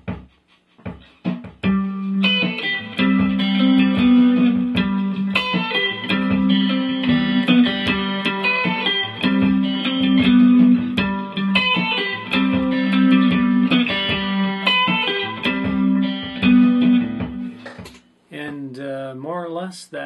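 Electric guitar fingerpicked with thumb and fingers plays a syncopated groove of plucked bass notes and chiming chords, close and steady for most of the stretch before stopping near the end.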